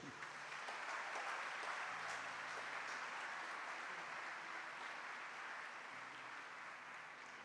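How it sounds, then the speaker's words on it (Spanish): Sustained applause from a church congregation at a sermon, a dense steady wash of many hands clapping at a moderate level throughout, with no speech over it. "Un aplauso para vosotros."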